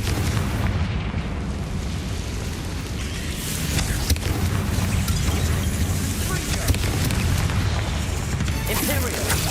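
Confringo blasting spell explosions in the Hogwarts Legacy video game, dense booming blasts layered with continuous battle noise and bursts throughout, loud and close, with game voices calling spells over the din.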